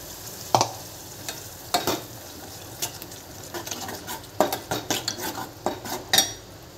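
Ground masala added over garlic-ginger paste frying in a pan, heard as irregular clinks and scrapes of a utensil against the pan with a low sizzle underneath, close and moderately loud.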